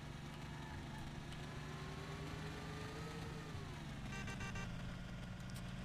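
A race car engine from the video game Mafia drones continuously with a rising then falling pitch sweep, loud and steady throughout, with no talk over it.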